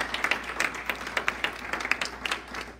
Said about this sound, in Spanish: Dale fuerte aplauso.